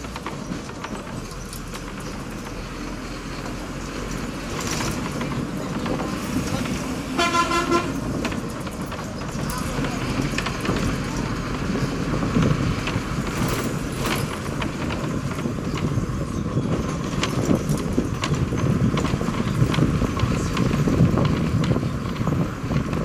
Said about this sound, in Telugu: ఒంటి మామిడి నుండి మన బస్ ఇప్పుడే బయలుదేరింది